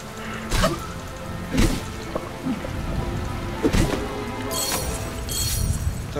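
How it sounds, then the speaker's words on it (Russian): Rain falls in the video game Vigil: The Longest Night, a steady patter broken by several sharp splashing or cracking bursts, with brighter crackling near the end. "Сраный дождь."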